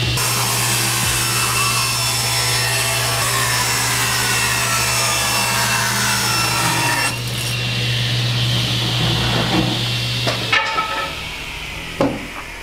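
A table saw rips wood boards for a simple modern floating nightstand: a loud, steady whining blade hum under the cut for about seven seconds, then the tone drops as the blade runs down, with a few knocks and clunks near the end.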